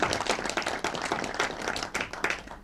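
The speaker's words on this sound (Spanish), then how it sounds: "Así que un aplauso para Darío." An audience claps together at a panel talk on geopolitics and religion, a dense, fairly close burst of hand claps that runs steadily for a few seconds with uneven swells and no talking.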